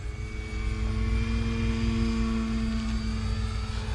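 An RC 3D model airplane flies an inverted harrier, its engine giving a steady, loud droning whine with a strong tonal hum throughout, close and continuous.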